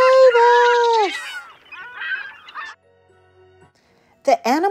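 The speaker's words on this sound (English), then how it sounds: "Help! Help! Shrieked the geese." Geese honking and shrieking on a farm: loud, harsh, overlapping honks open the passage, then quieter squawks, a lull, and a sharp burst of honking near the end.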